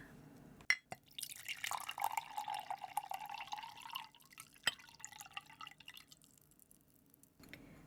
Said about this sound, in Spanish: ahora le vamos a echar el agüita.